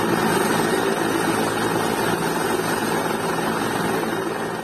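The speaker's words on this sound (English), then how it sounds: "Dramatic images of chopper reportedly evacuating members of ruling party from a" A helicopter, reportedly evacuating members of a ruling party from a stadium, drones steadily and loudly throughout, a continuous rotor and engine roar that fades slightly at the end.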